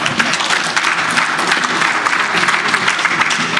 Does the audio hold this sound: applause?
yes